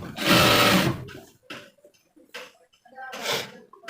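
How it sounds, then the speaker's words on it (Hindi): A sewing machine stitches a belt onto trousers using a hidden stitch, running in short close bursts: one long run, then two shorter ones separated by near-silent pauses. "और फिर यहाँ पर हमें सिलाई करनी होगी।"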